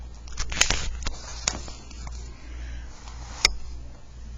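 Soft footsteps creeping up from behind, a few light, uneven crackling steps close by, with a sharper tap near the middle and another at the end, heard alone with no talking.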